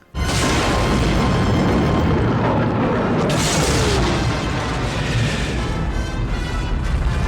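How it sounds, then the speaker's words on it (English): A loud, sustained explosion roars and rumbles for several seconds as Jabba's sail barge blows apart in Return of the Jedi, a dense, booming blast that stays heavy throughout. "Jabba's sail barge is destroyed"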